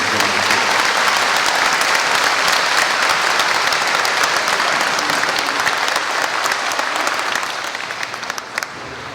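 A school crowd at a 100th anniversary celebration bursts into steady, dense applause that carries on loud and unbroken for several seconds, tapering slightly near the end.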